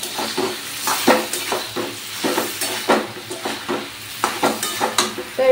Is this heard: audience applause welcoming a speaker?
no